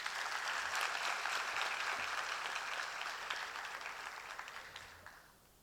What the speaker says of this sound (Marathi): सर्वांनी परत एकदा टाळ्या वाजवायच्यात.